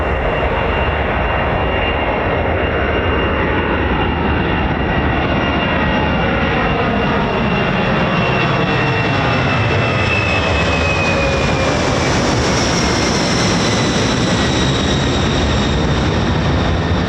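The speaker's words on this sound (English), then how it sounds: "I just love that aircraft." US Air Force military aircraft at RAF Mildenhall, a loud continuous engine roar that sweeps steadily in pitch as it passes close by, filling the air for the whole stretch with no voices.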